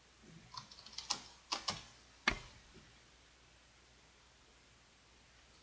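A malfunctioning computer keyboard gives a handful of quick, faint keystroke clicks in an irregular burst, followed by near silence in a quiet room.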